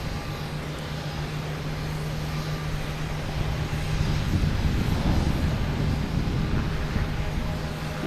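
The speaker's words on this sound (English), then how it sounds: "we have JetBlue and A220 heading to Pittsburgh, 2185." A JetBlue Airbus A220 jet at Boston Logan Airport sends a steady, broad engine roar that builds in the middle and stays heavy to the end, heard from a distance with no voices.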